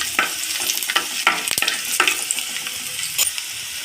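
Cluster beans with a half spoon of turmeric being stirred in a frying pan, a steady sizzle broken by several sharp scrapes and clinks of the spoon against the pan, close and fairly loud, with no talk.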